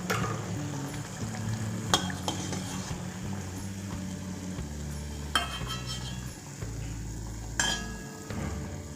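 Vada sizzle steadily in hot oil while a metal scoop clinks and scrapes against the pan, several sharp clanks punctuating the continuous frying hiss. No one speaks.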